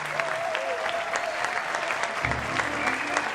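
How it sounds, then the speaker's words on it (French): Audience applause for a performing company at a Ramadan show, steady dense clapping throughout, with a faint tone and some low rumble underneath. "On va les applaudir très fort."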